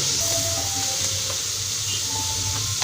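Yogurt hits oil-coated fried beef in a pot while a beef yakhni pulao is cooked, producing a loud, steady close sizzle with a faint scraping stir and no speech.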